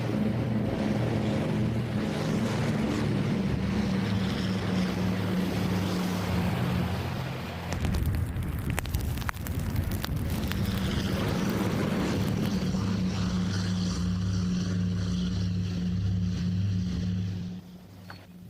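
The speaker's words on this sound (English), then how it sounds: "Each Catalina picks up 8 tons of seawater, taking it on board through a narrow scoop in the hull." Catalina flying boats skimming the sea and scooping seawater into the hull through a narrow scoop, a steady loud engine drone over rushing water and wind buffeting that holds for most of the stretch before fading.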